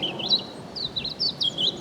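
Robins singing in a churchyard at St Michael's and All Angels, Withyham: high, warbling phrases repeated several times over a quiet outdoor background, moderately near.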